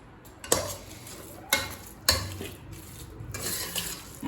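A ladle mashing cooked rice and lentils in a pot for sweet milk pongal, with a few sharp metal knocks against the vessel between soft squishing stirs, close and fairly quiet.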